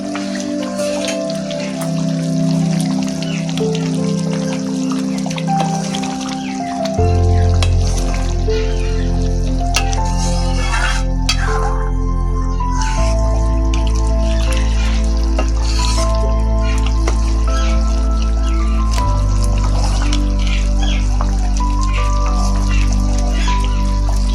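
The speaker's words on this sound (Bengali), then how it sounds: "ডাল একদম সুন্দর করে ফুটছে" A pot of masoor or kalai dal lentils with fish heads bubbling on the stove, a continuous busy sizzle and pop of boiling over a steady low hum, loud and close throughout.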